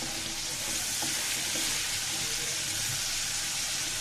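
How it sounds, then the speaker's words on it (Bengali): Whole cardamom, cinnamon, bay leaf and clove sizzling in hot oil, a loud, dense, continuous crackling hiss up close. "এ পর্যায়ে দিয়ে দেবো এলাচ দারচিনি আর তেজপাতা লবঙ্গ"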